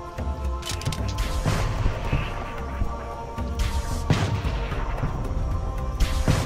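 Repeated explosions from plasma grenades in the Halo: Spartan Assault video game, several heavy booms and crashes in a dense, continuous stream of combat noise with machinery-like rumble.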